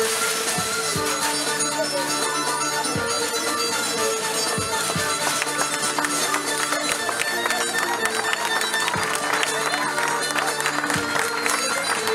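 Public audience applauding and cheering at the unveiling of the Laïcité mural after a hip-hop dance demonstration, a steady dense wash of clapping from a crowd that holds for the whole stretch with some voices mixed in.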